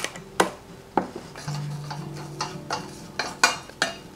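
Smoked bonito flakes stirred with soy sauce and sesame oil for an okaka onigiri filling, giving several close, sharp clinks and scrapes of a utensil against a bowl at irregular intervals, with no talking.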